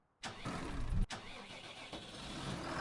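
Small tractor engine in a video game starts abruptly and runs at a steady mid-pitched drone with a brief catch partway through, loud and close with no talk over it.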